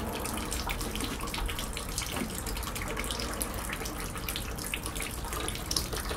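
Water rushes and hisses steadily from a pipe being soldered, a continuous close splashing flow like a running tap with no pauses and no talk.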